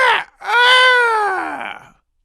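A person mimics a rooster's crow up close with a short yelp, a brief break, then a long, loud, wavering call that gradually trails off, heard on its own.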